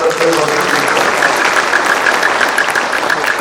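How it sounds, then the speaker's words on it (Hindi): A large crowd gives thunderous applause to welcome the Chief Minister at an agricultural university event, dense and continuous, with a faint repeated tone and some voices mixed in. "उस मुख्यमंत्री का तालियों की गड़गड़ाहट से आप हार्दिक स्वागत करें"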